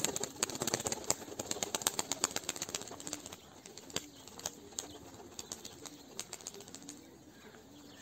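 A Turkish tumbler pigeon flaps its wings in a quick, sharp run of claps. The flapping fades into softer intermittent beats, and coos and chirps from other pigeons come through in the background.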